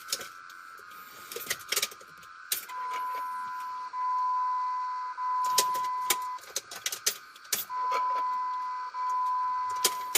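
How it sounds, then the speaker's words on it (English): A 2004 Jeep Grand Cherokee's fuel pump primes each time the key is cycled, giving a steady electric whine of a second or two, repeated several times. Short dashboard chimes sound in between and there is no talk. "And I've heard the fuel pump kick on each time."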